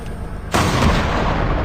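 Gunfire in the mobile shooter Call of Duty Mobile hits loudly and suddenly after a quiet half second, a dense burst of shots and booms that keeps rumbling to the end; no one speaks.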